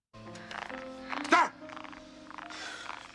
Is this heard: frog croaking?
yes